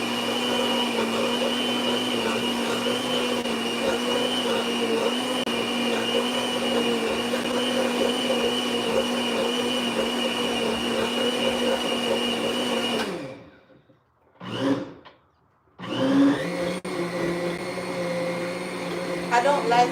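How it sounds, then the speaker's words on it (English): Kitchen blender running a smooth mixture, a loud steady whine with a constant hum held for many seconds, then briefly stopping and pulsing before starting up again. "I'm going to blend it very smooth"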